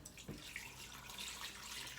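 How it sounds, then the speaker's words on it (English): Tap water runs steadily into a bowl while a Jamaican oxtail dish is prepared, a soft continuous splashing hiss heard alone and fairly quiet throughout. "So I'm adding 3 cups of water"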